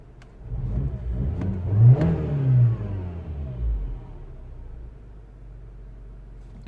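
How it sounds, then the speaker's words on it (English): A Mini One R56, upgraded from a 1.4 to a 1.6 engine, revs up in a couple of rising surges, then the engine note sinks and settles back to a steady low idle, heard close with no talk. "I'm gonna rev the engine and then let it come down to idle"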